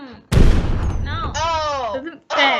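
A tank fires in the video game Tiny Tanks: one sudden loud blast with a rumbling tail, followed by a voice talking over warbling game sounds.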